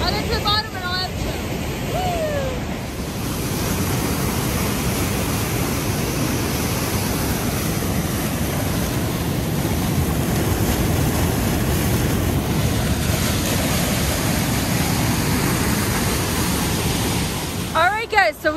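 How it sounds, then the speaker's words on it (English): West Duchesnay Falls near North Bay, Ontario roars as a loud, steady broadband rush close by, with a voice briefly talking over it at the start and end. "we have now reached the bottom of what we think is West Duchesnay Waterfall."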